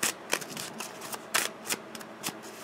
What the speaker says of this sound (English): I like to shuffle until something falls out